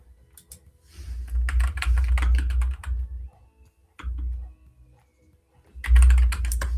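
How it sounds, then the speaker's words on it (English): Typing on a computer keyboard in bursts of rapid, close clicking, with pauses between runs and a loud final flurry, no speech. "Because I can hear you typing"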